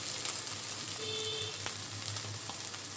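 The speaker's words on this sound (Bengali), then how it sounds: "আদা রসুন পেঁয়াজ ভাজা হয়ে গেছে, এবারে দেবো হলুদ দেবো" Ginger, garlic and onion sizzle in a pan while turmeric is added, a quiet, steady frying hiss with a few soft stirring clicks.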